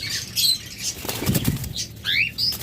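Lovebirds flap their wings in quick fluttering bursts, close by, mixed with brief high chirps and squeaks.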